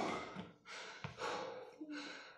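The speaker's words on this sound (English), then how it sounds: "I'm breathing heavy." Heavy, rapid breathing from a person resting between dumbbell exercises in a full-body workout: a few loud, close gasping breaths and exhales, separated by short pauses.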